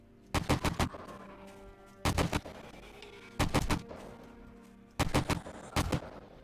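Automatic gunfire in 7 Days To Die, Alpha 16 horde mode: four separate close bursts of rapid shots spaced a second or two apart, each cutting off sharply, over a low game background hum and no talking.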